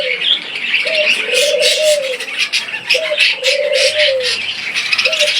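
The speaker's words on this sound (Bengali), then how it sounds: "দেখতে পাচ্ছেন অনেক সুন্দর সুন্দর পাখি রয়েছে।" Inside a bird shop at Tongi bazar, doves repeat loud rhythmic coos in regular phrases while many small birds chirp densely and continuously above them, close and busy.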